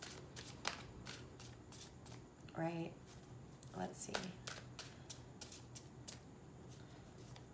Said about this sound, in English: I shuffle and then I take from the middle.